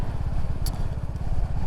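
Steady, close thumping idle of a Royal Enfield motorcycle engine, a low rhythmic single-cylinder pulse continuing throughout with a brief faint clink.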